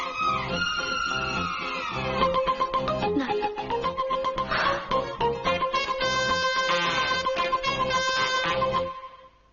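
An electronic phone ringtone plays a bright, repeating melody for several seconds, steady and fairly loud, then cuts off abruptly.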